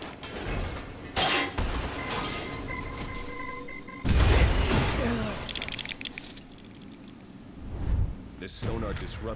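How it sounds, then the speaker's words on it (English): Glass shattering from a sonar disruptor in the video game Lego Batman 3: Beyond Gotham, bursts of crashing and mechanical rattling with loud surges, mixed among game effects and a voice speaking. "This sonar disruptor will destroy that glass."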